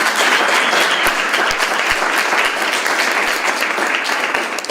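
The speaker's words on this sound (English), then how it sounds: "Can we just give him another round of applause?" Lecture hall audience at Howard University applauding, a loud, dense burst of many hands with a few sharper individual claps standing out, held for nearly five seconds before tapering.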